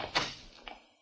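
A door in an old radio detective drama opens with a soft thunk, a brief woody knock and then a faint latch click near the end, all close and fairly quiet with no talk over it.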